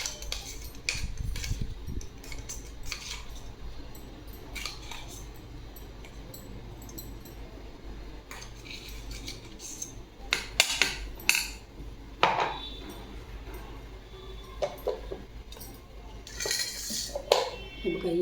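A spoon clinks and scrapes against a metal pot while garlic-cumin paste is added to homemade pickle, with irregular close metallic taps and knocks scattered over quiet stretches.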